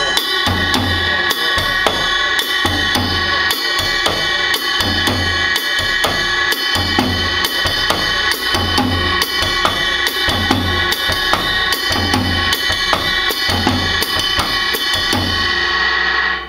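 A basic samba groove is played on a drum kit at a moderate tempo, with a steady repeating kick-and-cymbal pattern that holds evenly throughout and has no talking over it.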